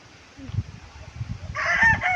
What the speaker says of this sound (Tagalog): Ito, 'tong tinatawag na labuyong manok.